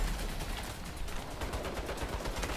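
Turret gunfire in the video game Saints Row, a dense rattling stream of rapid shots, fairly faint and continuous over a couple of seconds without talk.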